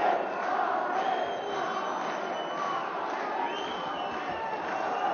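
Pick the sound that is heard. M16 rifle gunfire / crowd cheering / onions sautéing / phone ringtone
crowd cheering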